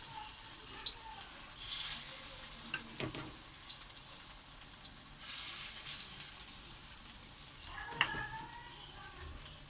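A spiced mixture fries in hot oil, giving a soft, steady sizzle broken by several louder scraping stirs and clatters. The sound is fairly quiet and close.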